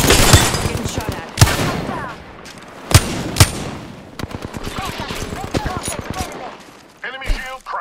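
Gunfire in an Apex Legends battle royale match: rapid bursts of close automatic shots with several sharp, loud single cracks standing out, set against a busy game soundscape and brief voice callouts.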